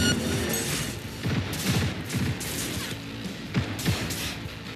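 Dense gunfire pounds through walls in Cyberpunk, a loud and continuous barrage of thudding, muffled bursts that rise and fall in waves without a pause.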